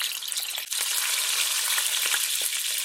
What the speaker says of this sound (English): What I'm gonna do is sear off the meat in 2 batches